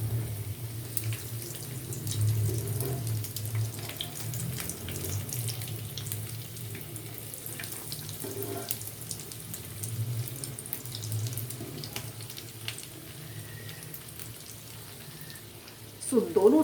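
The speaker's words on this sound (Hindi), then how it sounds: "सो दोनों साइड से इन्हें अच्छे से फ्राई कर लीजिए जब तक कि ये गोल्डन ब्राउन ना हो जाएं" Bread snacks deep-fry in hot oil with a steady, even sizzling hiss that holds for the whole stretch and gets a brief louder crackle near the end.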